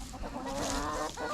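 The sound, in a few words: Black Copper Marans chicken clucking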